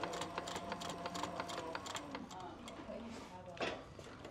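A leather sewing machine runs a basting stitch, its needle ticking in a quick steady rhythm for a few seconds, fairly close and moderately quiet.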